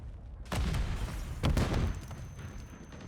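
Gunfire and grenade blasts crack and boom in a competitive video game match, with heavy bursts around half a second and again near one and a half seconds, then fainter trailing shots.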